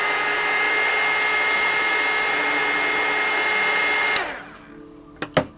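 A heat tool blows a steady, loud whirring hiss to warm a crayon portrait on paper, running continuously before cutting off, followed by a couple of sharp clicks and taps.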